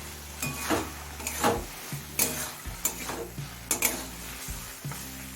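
Potato and eggplant fry in a pan over a high gas flame while a utensil stirs them, each stroke a clattering scrape above a constant sizzle, heard up close.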